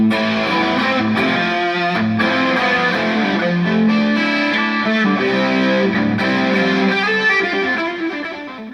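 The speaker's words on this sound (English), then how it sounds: "we take another time-based effect, the reverb, and we stick it behind the delay," Electric guitar played through a delay effect followed by reverb, a dense washy sustained sound with overlapping echoes and distortion, loud and continuous without talk, fading slightly at the end.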